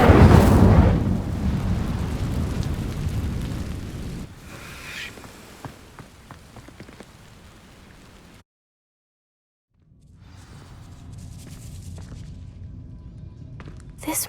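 A fire spell, Incendio, bursts out with a loud roaring whoosh in the video game Hogwarts Legacy, then settles into crackling rumble and scattered impacts before dropping to near silence and returning as a quieter ambient bed.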